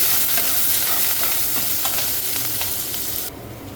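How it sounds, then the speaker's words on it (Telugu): Onion, green chilli and curry leaves frying in a pan with lentils, mustard seeds and cumin, a steady loud sizzle with scattered stirring scrapes that drops off sharply near the end, no voices. "తర్వాత ఉల్లిపాయ, పచ్చిమిరపకాయ, కరివేపాకు వేసుకోవాలి"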